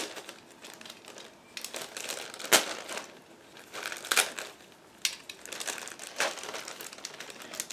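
A sealed plastic bag holding model kit sprues is cut open, giving close crinkling and rustling plastic with a few sharper snips and crackles spread through the handling.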